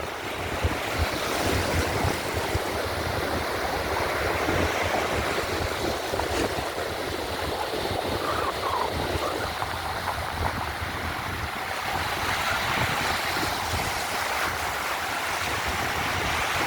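Sea waves wash continuously beneath a ferry crossing at summer's end, a broad steady rush of water with wind buffeting the microphone and no voices.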